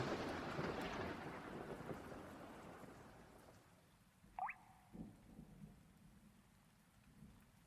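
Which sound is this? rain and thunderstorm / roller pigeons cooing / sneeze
rain and thunderstorm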